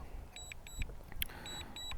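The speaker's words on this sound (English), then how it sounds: "You hear that, just like that really kind of light beep." Soft, high electronic beeps from a DJI Mini 2 drone controller repeat in short pairs over a low outdoor rumble of wind, light and unobtrusive rather than loud.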